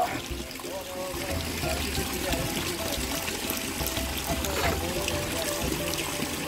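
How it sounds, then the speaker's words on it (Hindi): Fresh water runs along a mountain roadside, a steady close trickle and splash that continues throughout with some background noise. "ये पानी फ्रेश फ्रेश पानी देखो यार"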